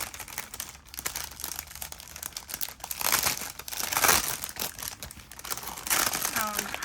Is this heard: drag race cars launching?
no